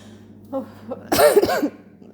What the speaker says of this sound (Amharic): ጉንፋን አሞኝ ሳል እየሆነብኝና ስስቅ በጣም ነው የሚያስለኝ